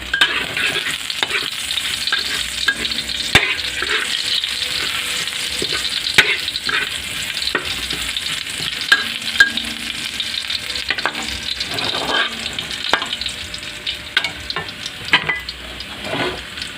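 Garlic and onion fry in oil in a pan for eggplant cooked with shrimp paste. A constant crackling sizzle runs throughout, with frequent scrapes and taps of a spatula stirring, and no talking.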